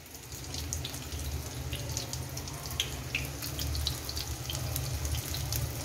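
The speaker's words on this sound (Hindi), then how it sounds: "अब हम लोग हैंड वॉश कर लेंगे" Tap water runs steadily into a kitchen sink while hands are washed after cracking eggs, a continuous close splashing hiss with no talking.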